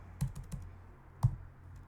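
Computer keyboard typing, a handful of soft, separate key clicks spread unevenly over a quiet background.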